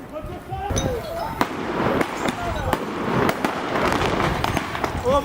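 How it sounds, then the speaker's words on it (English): Fireworks bursting during a street protest clash with police in Paris, a rapid string of loud cracks and pops over a dense crowd roar with voices throughout. "setting off fireworks"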